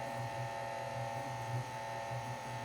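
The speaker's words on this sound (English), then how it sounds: "So I have it on low, my mixer." Electric mixer running on low speed while mixing apple fritter cake batter, a steady close motor hum with a faint pulsing whir, continuous and alone.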